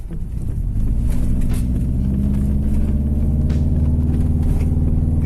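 A 2011 Subaru Forester with a Unichip tune accelerates under turbo boost, its engine a steady, loud, low rumble heard from inside the cabin throughout, with no talk.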